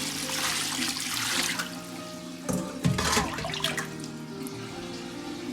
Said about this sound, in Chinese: 先把浸泡过的绿豆芽控水，再用清水稍微多冲洗2遍